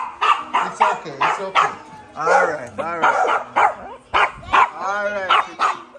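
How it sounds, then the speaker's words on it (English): A dog barks in repeated short bursts at home, mixed with people talking calmly over and between the barks. "Oh, the dog."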